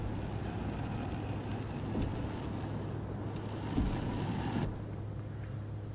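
Broadband wind and engine rumble inside a C206 Turbine aircraft taking off, a steady loud roar with a low drone and occasional gusty swells, no talking.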